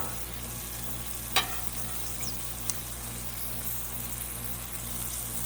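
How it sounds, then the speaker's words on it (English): Shrimp seasoned with Old Bay sizzle steadily on a griddle for an outdoor Independence Day seafood cook, a dense, continuous frying hiss with a couple of brief, sharp clicks and no voices. "I love my shrimp on the griddle"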